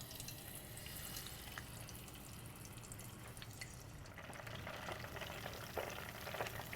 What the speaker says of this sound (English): I'm just gonna fry it till it gets the color I'm looking for.